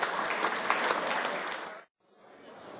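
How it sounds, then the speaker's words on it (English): Crowd applause for the Ampol Cup winners at a sports club reunion, dense energetic clapping that stops abruptly near the two-second mark, followed by faint room sound. "Give the Ampol Cup winners a round of applause"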